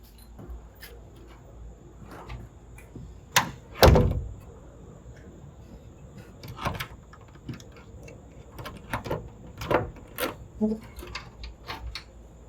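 An exterior cedar door on a pool pavilion swings shut with a sharp thud, surrounded by scattered clicks and knocks of the latch and frame in an otherwise quiet space.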